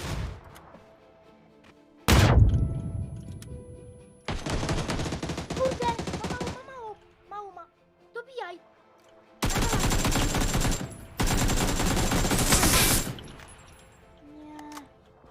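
Bursts of automatic gunfire from a video game, several sustained volleys separated by short gaps, loud and close, with brief quieter stretches of game sound between them.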